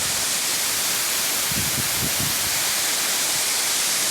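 The Zanetti waterfall in Santa Teresa, Espírito Santo, rushes with a loud, steady broadband roar that fills the whole clip, with a few low thuds mid-way.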